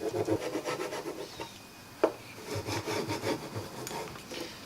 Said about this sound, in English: So we've given that a really good scrape now